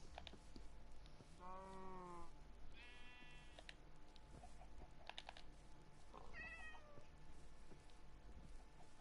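Cats meow in the Minecraft video game, three distinct mews spaced a few seconds apart over a steady low background hum, with faint clicking and no talk.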